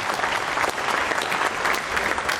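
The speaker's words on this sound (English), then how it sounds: "you heard the applause from people here in Jupiter, handshakes all around" A steady burst of applause from a crowd indoors at a rocket launch control centre after an Ariane 5 launch, dense clapping filling the space for a couple of seconds with no talk over it.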